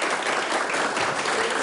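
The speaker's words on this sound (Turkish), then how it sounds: "Bir alkışlar da onlara istiyorum sizlerden." An audience at an event breaks into applause, a short, dense burst of clapping that stays loud and even throughout.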